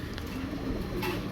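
Soft cooing from a pair of top-quality Lowdi pigeons, a cream-barred cock and hen, heard as a brief low murmur against steady background noise.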